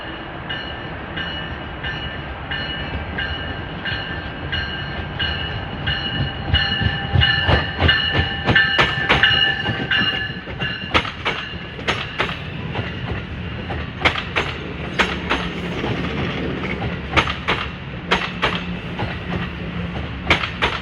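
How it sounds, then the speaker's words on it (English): Commuter train 6635 bound for Dover rolls past near Secaucus/Rutherford, New Jersey, a steady loud rumble of wheels with repeated sharp clicks over rail joints and faint high squeals throughout. "This is train 6635 for Dover."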